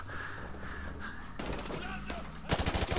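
Gunfire in a first-person shooter video game: a steady wash of game noise, then loud, rapid bursts of shots close up near the end.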